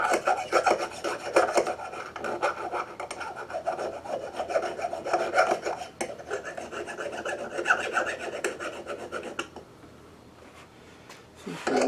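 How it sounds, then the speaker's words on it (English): A fine saw file rasps steadily against metal turning on a Fay & Scott lathe, a continuous scraping rub at close range that cuts out near the end, leaving a quieter pause. "all I've got for fine files is files for saws"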